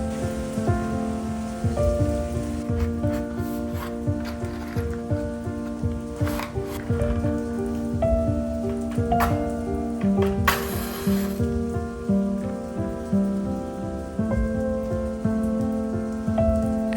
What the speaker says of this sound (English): It started raining as soon as I stepped in.